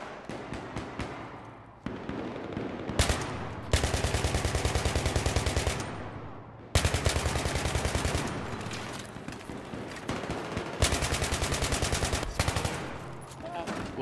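Dense automatic and rapid gunfire from a Battlefield 3 Gun Master match on the Talah Market map, loud sustained bursts with short gaps and scattered single shots across the whole stretch, no talk over it.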